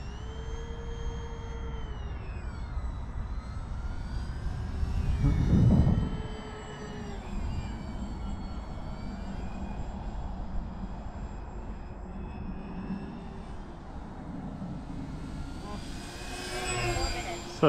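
An AVIOS HobbyKing Albatross HU-16 V2 RC plane in US Coast Guard livery flies overhead with twin electric motors. Their whine bends up and down in pitch as it climbs and passes, with a brief whoosh of wind partway through.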